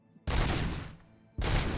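Gunfire in the video game Robocop Rogue City: two loud, dense bursts of rapid shots, the first longer and fading out, the second starting sharply after a short gap.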